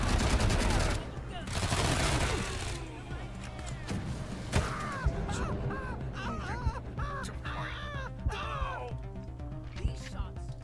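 Combat gunfire in Wasteland 3 comes as bursts of shots early on, followed by sharp intermittent reports mixed with crow-like caws and game effects, fairly loud and busy.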